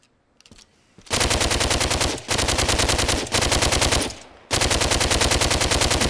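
Rapid automatic gunfire from skeleton enemies in the VR game DWVR, loud and close in several sustained bursts separated by brief gaps.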